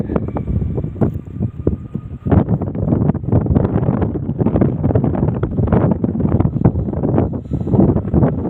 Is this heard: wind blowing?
yes